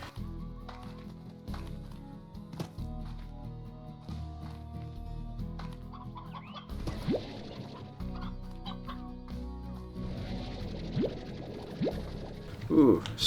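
Hens cluck in the farming game Slime Rancher as chickens pile onto one another, soft bursts of clucking over background game music, with people chatting throughout.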